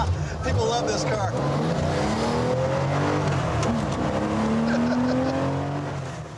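Car driving around Los Angeles, its engine revving and pulling through gears with a steady rising drone, close by, while people talk over it.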